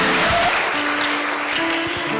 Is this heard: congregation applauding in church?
yes